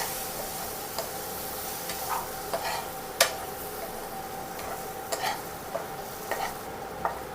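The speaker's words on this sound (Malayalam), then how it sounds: "ഇനി നമുക്കതിലേക്ക് മുട്ട ചേർത്ത് കൊടുക്കാം. ഒന്ന് മിക്സാക്കി എടുക്കാം." Quail eggs stirred into a frying masala in a pan, giving a steady hiss of frying under a series of sharp spatula taps and scrapes spaced a second or so apart.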